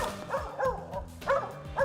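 A squirrel-hunting tree dog barks at a tree outdoors, a series of sharp, fairly close yelping barks coming in quick bursts.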